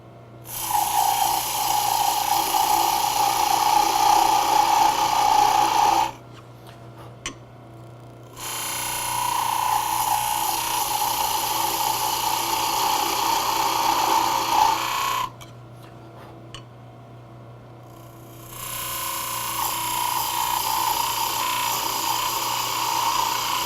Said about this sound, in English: With my lines established, I can now part the tenon on the end